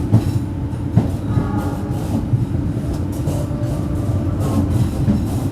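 The Gumarang passenger train rolls into Semarang Tawang station close by with a steady low rumble and rhythmic wheel clacks on the rails.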